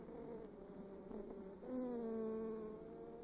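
Honey bees inside a hive give a steady, close insect buzz with wavering tones, and one louder bee's hum swells briefly partway through.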